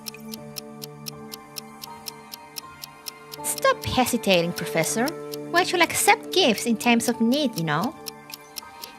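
Steady clock ticking in the video game Neural Cloud, even regular ticks running throughout, with a character's voice speaking over the middle and latter part.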